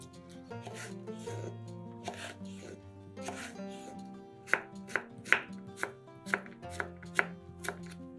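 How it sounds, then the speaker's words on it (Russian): A knife chops a cucumber into cubes steadily on a cutting board, sharp regular taps growing more distinct midway, over quiet background music. "Один огурец также режем кубиками."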